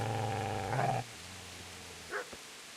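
A dog growls and snarls loudly at close range for about a second, then goes quiet before a brief yip or snap follows near the end.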